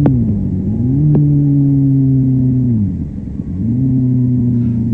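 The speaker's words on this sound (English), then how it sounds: "he's revving the motor, but the clutch release is so slow he loses all the revs from his throttle blip" A motorcycle engine rises and falls in pitch as its revs change during downshifts, loud and close, with the engine note dropping and climbing again.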